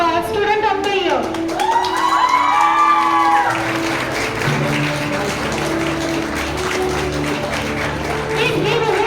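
Hall audience giving sustained applause and cheers for a Student of the Year award winner at a doctors' day celebration, with whoops over steady clapping and music faintly underneath.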